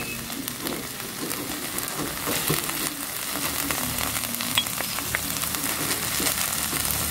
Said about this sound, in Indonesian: Ini kita tumis lagi cabenya sampai hilang bau langunya